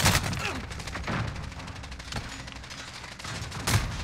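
Gunfire in Call of Duty on the Shipment map: sharp bursts of shots come near and far in irregular clusters, with a strong burst near the start and another near the end.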